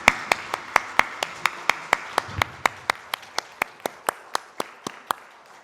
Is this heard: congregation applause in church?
yes